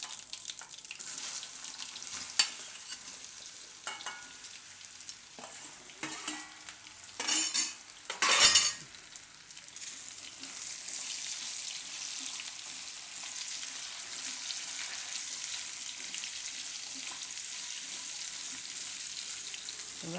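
Raw banana slices and cumin seeds fry in hot oil for a kasuri methi vegetable dish, a steady close sizzle that swells into a louder burst midway before settling back to an even hiss, with no talking.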